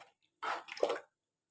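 A spoon stirs salt and turmeric into beef haleem in a cooking pot, one brief wet, squishing scrape after a short silence, quiet and close.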